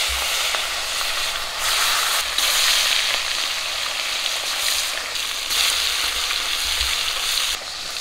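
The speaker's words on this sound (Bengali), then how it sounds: "মাছগুলো মাখা হয়ে গেছে, দিয়ে দিচ্ছি কড়ার মধ্যে।" Marinated rui fish pieces sizzle loudly in oil in a very hot kadai, a dense continuous hiss and crackle with slight surges, with no talking.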